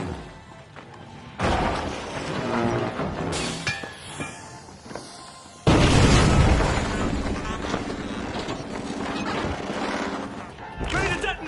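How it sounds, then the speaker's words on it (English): Gas grenade going off in The Finals, with heavy crashing bursts and thuds rising sharply amid chaotic in-game noise, loud and close, with talk over parts of it. "Gas grenade out!"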